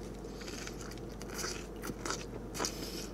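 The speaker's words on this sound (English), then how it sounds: "First bite of the carne asada burrito without salsa." Biting into a large Chipotle carne asada burrito without salsa, close and quiet, with soft crunchy bites and wet chewing scrapes at an uneven pace.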